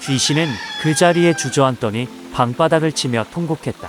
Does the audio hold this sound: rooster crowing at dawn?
yes